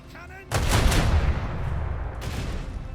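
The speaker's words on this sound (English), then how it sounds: "Macro cannon." A macro cannon fires in Warhammer 40K Rogue Trader, a sudden heavy boom that bursts in loudly and rolls on as a sustained rumbling blast, with a second impact near the end.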